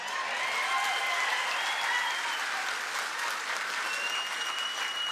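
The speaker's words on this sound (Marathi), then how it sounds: "आणि ऍडव्हान्स टाळी वाजवायची का?" Crowd clapping at a political campaign gathering in Barshi, sustained dense applause at even volume throughout, with no speech over it.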